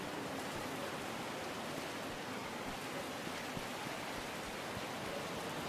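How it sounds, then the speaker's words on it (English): Steady, dense rain in a video game hisses evenly throughout, a constant wash of noise with no breaks and no voices. "This rain is so loud."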